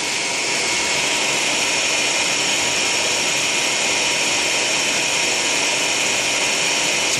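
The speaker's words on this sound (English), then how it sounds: "Powerful drill to drive the boring shaft." An American Machine Tools line boring machine with power feed runs steadily, its drill driving the boring shaft in a constant loud, high whine with no pauses.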